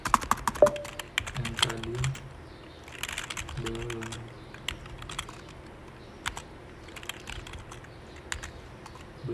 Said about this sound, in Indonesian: Kita ketikin aja di sini.